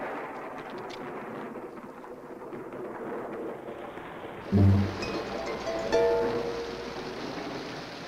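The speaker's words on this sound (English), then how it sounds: "But the rains came" Rain and thunder in a 1970s horror film build as a steady wash of falling rain, broken by a deep thunder boom partway through and a second rumble shortly after, fairly loud and with no voices.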